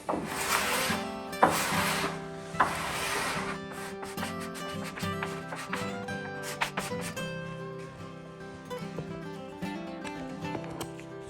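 Old finish being stripped from a mid-century teak dining table: repeated rough rubbing and scraping strokes on wood, strongest at first and then softer, with a tonal background behind them.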